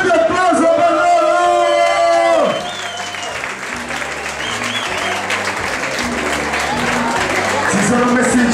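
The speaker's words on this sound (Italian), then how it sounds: "Grande applauso per loro!" Loud applause and cheering break out for salsa dance competitors at the Puerto Rican salsa competition final, over music, then fade into crowd chatter with music continuing.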